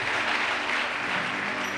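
A church congregation claps together in a dense, even burst at a Sunday service, full and steady from start to finish.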